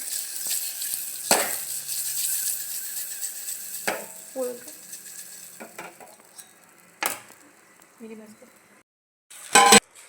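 Mango pieces and red chili being stirred for pickle, with scattered scraping and clinking of a spoon against the pot, sharp knocks here and there and a louder clatter near the end.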